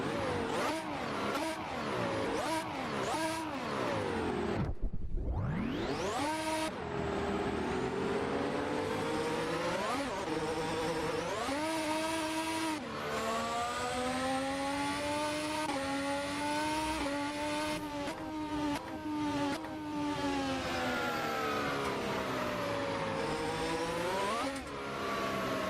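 A Formula 4 race car engine roars loudly and continuously at Summit Point, revving up and down through gear changes with a sharp drop and rapid climb early on, no voices.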